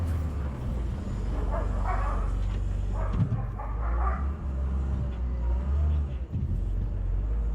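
Dogs barking outdoors near a running loader, yips and barks rising over steady engine rumble, with brief voices.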